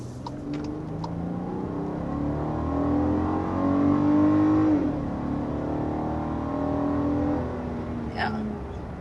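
A 2023 Volkswagen Atlas Cross Sport's engine rises in a steady rev, swells and then settles into a sustained drone heard from inside the cabin, with people talking over it.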